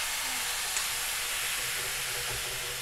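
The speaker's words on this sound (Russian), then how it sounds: "Нагретая сковородочка, маслица. Нам слегка надо будет потушить капусту." Cabbage stews in oil in a heated frying pan, giving a faint, steady sizzling hiss that runs evenly throughout with no voices.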